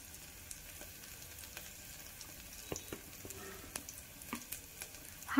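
Ginger garlic paste frying in a pan for daliya vegetable khichuri, a soft steady sizzle with faint scattered pops and stirring ticks, close and quiet.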